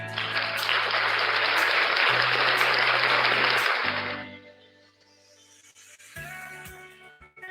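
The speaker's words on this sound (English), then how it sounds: "let us give our speaker another big round of applause" Audience applause at a webinar on tourism technology: a dense burst of clapping that holds strong for about four seconds, then fades into quieter scattered sounds.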